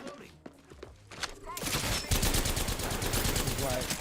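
Rapid automatic gunfire in Apex Legends, a dense loud burst of overlapping shots that starts after a quieter opening with scattered pops and continues steadily to the end, with brief game voice lines mixed in.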